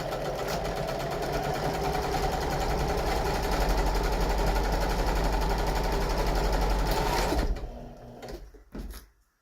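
A sewing machine runs a parallel stitch along a flat seam, humming steadily and closely for about seven seconds before stopping, followed by a few brief handling knocks.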